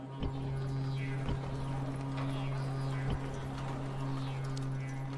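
Horses in a Rome: Total War campaign give a few sharp clip-clop hoof sounds over a steady droning hum, close and moderately loud, with no clear neighing.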